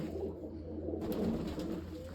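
Pigeons in a coop coo softly and steadily, low and muffled, over a faint background hum with no talking.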